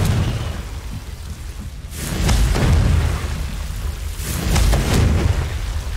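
The Confringo fire spell is cast in the video game Hogwarts Legacy, producing two deep, rumbling blasts a couple of seconds apart over a constant crackling, rain-like roar.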